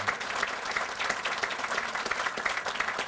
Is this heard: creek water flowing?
no